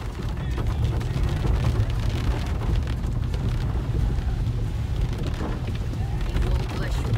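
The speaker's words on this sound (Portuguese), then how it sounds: "Voltou a chover mais." Heavy rain drumming steadily on a Ford EcoSport 4WD during a drive near a swollen river in a rural district, a dense, constant roar of water and road noise inside the vehicle.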